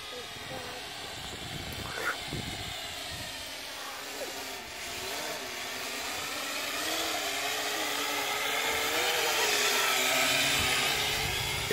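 A small, lightweight drone buzzes steadily in flight outdoors, a high whining hum that shifts in pitch as it moves and grows slightly louder toward the end, with no speech over it.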